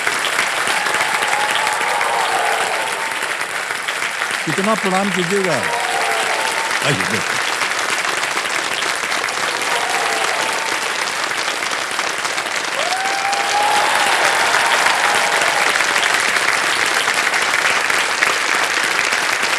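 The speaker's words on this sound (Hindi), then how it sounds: "तालियां बजती रहें" A studio audience on the game show Kaun Banega Crorepati applauds continuously and loudly, a dense steady wash of clapping lasting the whole stretch, while a host's voice speaks over it.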